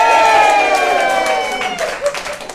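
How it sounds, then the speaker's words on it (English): Crowd at a monthly meeting cheering and applauding, a dense wash of clapping and voices that is loud at first and slowly fades, with some talk mixed in. "and the crowd cheers."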